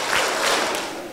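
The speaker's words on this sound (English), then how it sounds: "clap three times." A school Christmas event audience claps together in response to a call, a short burst of dense clapping with a few soft thuds, brief and moderately loud before fading.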